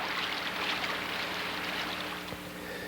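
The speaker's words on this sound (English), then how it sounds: "Observe this river in Yellowstone National Park." A river in Yellowstone National Park rushes turbulently around obstructions, a steady broadband wash of churning water that stays loud and even throughout, with no voices.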